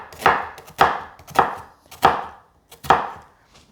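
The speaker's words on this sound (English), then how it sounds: "You're going to cut down the onion, not right through to the end." A knife cutting down through an onion on a board, five firm thudding chops in a slow steady rhythm, each with a short crisp crunch, close and loud with no voices.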